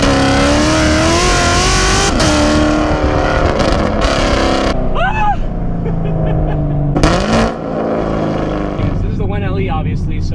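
A 600 hp Camaro SS with a 10-speed automatic revs loud and near, its engine note rising through gear changes with brief dips, and a voice speaks over the roar in places.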